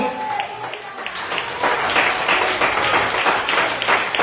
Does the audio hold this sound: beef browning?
no